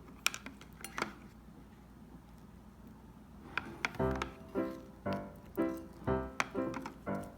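A spoon works through purple glitter slime in a bowl, with light clinks and taps against the container, then wetter squelching stirs that come in a steady rhythm of strokes, close and fairly quiet.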